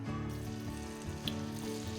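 Butter sizzles and fries steadily in a pot, a constant close crackle with a soft tonal hum underneath and no talking.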